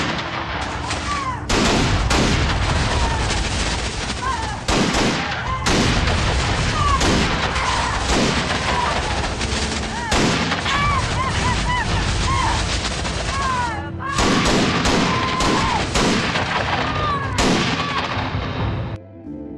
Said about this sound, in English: a man armed with a shotgun approached their vehicle and began banging on the door